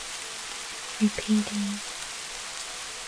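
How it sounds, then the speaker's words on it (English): Rain taps steadily on a tiled roof, a soft, even hiss that runs throughout as a calm background, with a brief spoken word near the middle. "The sound of rain tapping on a tiled roof."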